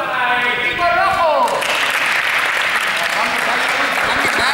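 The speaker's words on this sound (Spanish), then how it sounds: "Un aplauso para el equipo rojo." Applause for the red team at a team car game: a group claps in a steady, dense burst that fills most of the clip after a brief voice at the start.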